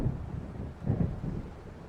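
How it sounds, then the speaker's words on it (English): A thunderstorm rolls in around a lakeside lodge in Alan Wake, heard as a low, continuous rumble with gusty wind, steady and fairly close, without any voices. "It seems there's a storm coming."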